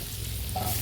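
Chopped onion frying in butter in a pan, heard as a brief, steady sizzling hiss with no voices.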